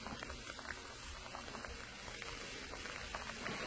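Pickles frying in hot grease, a steady faint bubbling sizzle with light crackles and pops scattered throughout, no talk over it.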